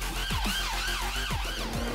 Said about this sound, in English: then the sirens are on and they're straight there.